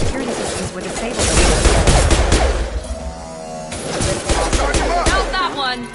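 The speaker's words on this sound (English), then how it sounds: "Sounds like gunshot." Gunfire in Mass Effect 2 comes in dense close bursts of sharp shots and impacts, with a short lull before more rapid shooting resumes, while voices talk over it.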